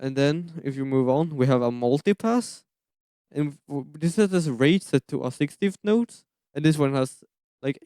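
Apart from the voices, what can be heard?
No distinct noise like a dog, phone or traffic.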